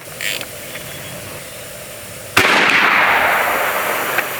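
A BinTac M50 457 regulated airgun fires a single shot, a sharp sudden crack followed by a lingering rushing hiss of air, close and loud, heard on its own.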